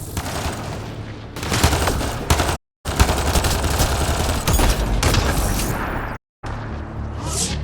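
Gunfire in the video game Mass Effect Andromeda, loud sustained bursts of automatic shots and booms over several seconds, broken by two short silent gaps.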